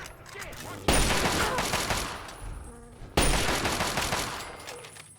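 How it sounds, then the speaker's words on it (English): Automated turret gunfire in the Fallout 3 video game: two loud, sustained bursts of rapid fire, each starting abruptly and slowly fading, separated by a short gap. "Sounds like gunfire."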